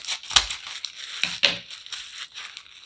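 Tissue paper crinkles and crunches as it is pushed into a cup and cut, a few sharp crisp rustles and snips close by with softer crumpling between them.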